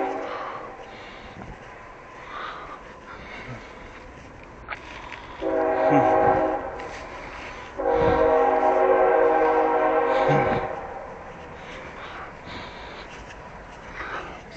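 A train rumbles past, its horn blaring in two long blasts over the steady roar of the cars on the rails.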